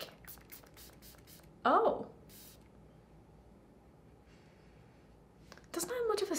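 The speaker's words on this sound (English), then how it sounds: "Let's try out the setting spray." Wet N Wild setting spray from the Saved by the Bell collection, the Wanna Wrestle bottle, gives a quick run of short, close hissing spritzes, then a lone pump later, with a brief spoken exclamation and a voice near the end.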